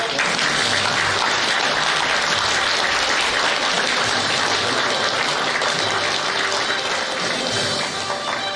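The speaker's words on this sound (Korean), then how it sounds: "입장하실 때 큰 박수 한번 부탁드립니다." Loud, dense applause from a large crowd at a political party's founding convention, sustained and steady throughout as officials enter the hall.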